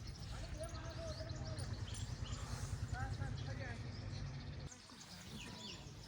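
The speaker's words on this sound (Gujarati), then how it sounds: "ચકલીનો અવાજ આવે છે ચારે બાજુ." Sparrows chirp in scattered, faint bursts around a temple, sitting over a steady low rumble of background noise, and the sound drops briefly near the end.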